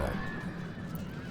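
A horse whinnies in a Rohan battle video game, a clear neigh up close over a low background rumble of the game.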